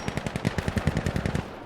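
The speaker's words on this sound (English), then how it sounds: "I shot like a total noob." Rapid automatic gunfire in the tactical shooter Insurgency: Sandstorm, a fast even string of around fifteen close, loud shots with a short trailing shot at the end.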